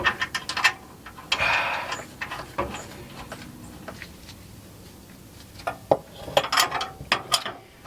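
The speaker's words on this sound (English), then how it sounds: "19mm this new shock mount nut is, and I don't have, I'm using a 3/4 inch combo wrench, which is 19mm" Metal combination wrench, 3/4 inch (19mm), turning a new shock mount nut on a bolt, giving bursts of close ratcheting clicks and metallic taps in irregular clusters with quieter pauses between, no talking.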